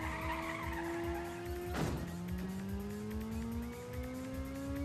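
Car drifting through a corner in Ridge Racer Type 4, the engine droning loudly before a sharp, sudden tire squeal bursts out, then the revs climb steadily as the car accelerates away.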